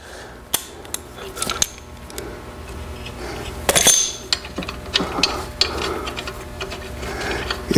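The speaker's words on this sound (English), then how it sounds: "we have to remove these 4 bolts" A hand ratchet clicks in quick, uneven bursts close by while bolts are removed from a hitch assembly during installation of Thompson rink equipment blade adaptors, with metallic scrapes and clanks between runs of rapid pawl clicking.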